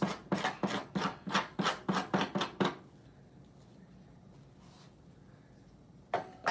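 A blade scrapes halibut skin in about nine quick, rhythmic rasping strokes close up, then stops, leaving quiet handling noise and a single scrape at the very end.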